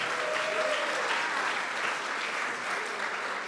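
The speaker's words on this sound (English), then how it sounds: "So let's have a nice round of applause for that." A dance camp audience breaks into applause, a steady, even patter of many hands filling the space at moderate volume, sustained from start to finish.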